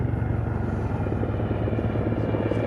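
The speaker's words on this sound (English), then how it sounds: "Helicopter departs at low level to avoid any detection by the enemy." A military helicopter departs at low level during a special forces demonstration, its deep rotor thump and engine rumble steady and loud throughout, with no one speaking.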